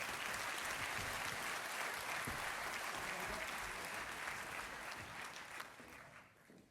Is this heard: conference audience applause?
yes